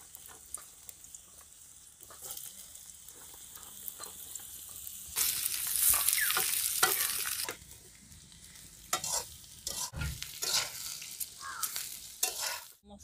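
Sliced potato frying in mustard oil for an Odia banana flower curry, with a steady sizzle that swells loudly midway under stirring and scraping sounds, close by and with no voices.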